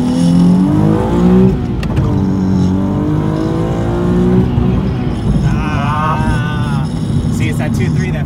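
A Nissan 370Z Nismo pulls hard in first gear, its engine note climbing steadily in pitch with loud, continuous intake and exhaust drone close by, and a voice briefly speaks over it.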